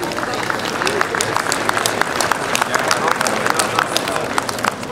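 An audience at a dairy cattle show for an aged cow class applauds, dense sustained clapping from a large crowd that holds steady throughout.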